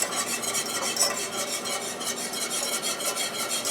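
Beef stroganoff sauce with mushrooms and wine is stirred in a pan to thicken, a close, continuous rhythmic scraping and swishing with faint sizzle underneath.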